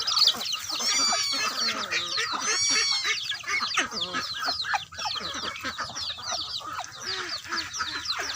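Backyard ducks and chickens clamor noisily at feeding time, with dense overlapping clucks, squawks and quacks close by and no pauses.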